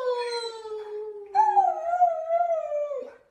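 A dog howls in two long, drawn-out sustained wails, the second rising and wavering, fairly close and clear with no talk over it.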